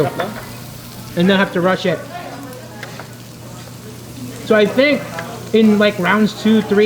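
Thick slices of fatty beef samgyupsal sizzle on a tabletop grill at a Korean barbecue meal in Laoag, Philippines, a steady frying hiss running beneath close conversation.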